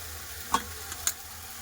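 Spices and chillies sautéing in oil for rohu fish curry, a soft sizzle punctuated by two sharp spoon clicks against the pan.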